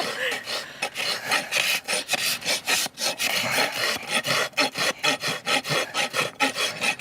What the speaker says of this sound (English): It's easier to rasp this direction.